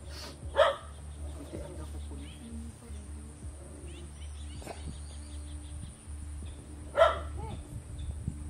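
A household dog at a home in a quiet forest gives two sharp barks several seconds apart, set against a low steady hum, faint bird calls and a quiet background.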